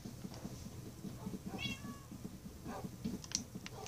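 A cat in the Minecraft video game meows in a few short, clear calls over steady low in-game background sound, with sharper blips and clicks near the end.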